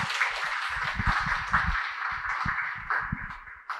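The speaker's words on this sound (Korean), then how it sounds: "큰 박수 부탁드립니다" Scattered clapping from an audience at a book talk as a presenter walks up, a steady patter of hand claps close by and fairly soft, carrying on for a few seconds with no one speaking.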